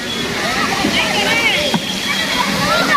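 Water sloshes and splashes as a child practises swimming, with a continuous wet churn broken by occasional splashes. Voices and shouting carry over the water.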